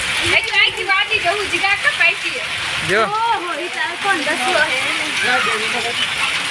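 Steady rain hisses in the background in Dhandhuka while several people talk and shout loudly over it.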